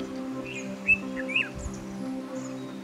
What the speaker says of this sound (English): These birds are vocal and often communicate through a series of whistles and chirps.